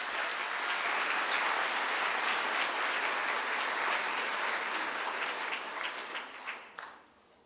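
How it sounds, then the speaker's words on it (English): An audience at a high school senior awards ceremony applauds the top students in their subject areas, a broad sustained roar of clapping that holds level, then thins and fades out over the final second. "a collective round of applause for the top students in their subject areas"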